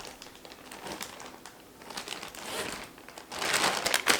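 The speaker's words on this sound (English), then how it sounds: "I also have some carrots. I'm just gonna break those into some pieces." Raw unpeeled carrots being snapped into pieces by hand in a home kitchen, giving a run of crisp crackling and crunching snaps that grows louder and denser toward the end, with no talking.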